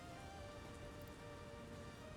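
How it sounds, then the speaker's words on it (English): Rain falls steadily in the video game Workers & Resources: Soviet Republic, a faint, even hiss with no pauses and no voices. "the rain's making it so difficult to see."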